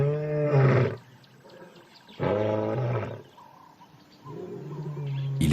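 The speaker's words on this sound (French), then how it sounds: "elle les entend rugir pour signaler leur position" Lions roaring to signal their position on a reserve, three loud, deep, harmonic roars separated by quieter pauses, fairly close, with faint bird chirps between them and no talk.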